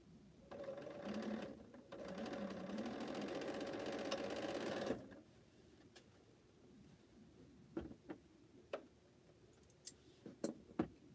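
A domestic sewing machine chain-pieces quilt block seams for a fan block in a steady, continuous whir for about five seconds. It then stops, leaving quiet handling clicks and a few small taps.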